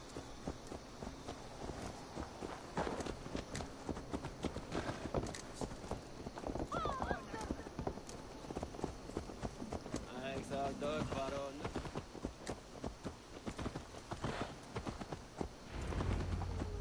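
Steady clip-clop of horse hooves walking in Assassin's Creed Valhalla, dense and continuous, with a horse whinny and background game music and voices throughout.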